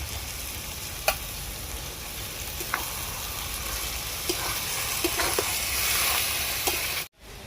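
Fenugreek greens frying in a pan with salt, a steady close sizzle with occasional scraping stirs of a spoon, ending abruptly.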